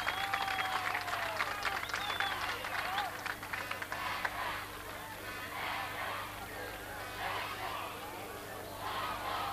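A crowd at a 1986 Donegal senior Gaelic football county final between Aodh Ruadh and Red Hugh's applauds a player being substituted off, a broad, distant wash of clapping and cheering with a commentator talking over it.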